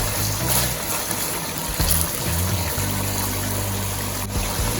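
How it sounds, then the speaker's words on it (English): Warm water trickles and pours steadily into a cooking pot throughout, with a low hum underneath and no talking. "Put some more warm water."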